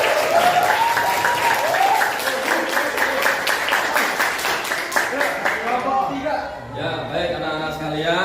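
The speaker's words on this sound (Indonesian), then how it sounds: "beri aplaus untuk Bapak 2" A classroom audience in an Indonesian teacher-training class gives a class presentation a burst of applause, steady at first and then fading, as a teacher's voice starts speaking over it.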